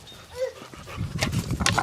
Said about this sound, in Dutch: Oh, kijk, hondjes.